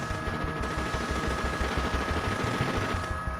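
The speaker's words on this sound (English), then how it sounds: "Officers find themselves against a fully automatic modified AK-47 with armored piercing bullets." Sustained automatic gunfire from a fully automatic modified AK-47 firing armor-piercing rounds during a police shootout with bank robbers, a rapid, steady stream of shots running the whole length at moderate distance, with no talk over it.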